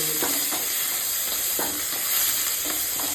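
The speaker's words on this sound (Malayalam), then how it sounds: "ഒരു പിടി കറിയപ്പല എടുത്ത് അവസാനം മൂപ്പിച്ച് ഇതിൽ ചേർത്ത്" Curry leaves frying in a pan for a home-style chicken biryani give a dense, steady sizzle with a few stirring clicks, loud and close, with no talking.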